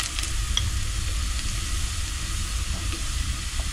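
Dal fries in a pan with fenugreek seeds for methi pappu, giving off a steady, dense sizzle with occasional crackles and pops. It stays loud and even throughout, with no speech.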